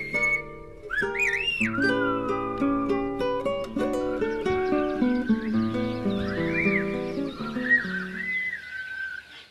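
A farmer whistles in silbo, the whistled language, producing gliding, rising and falling pitched calls that ring out over sustained lower tones.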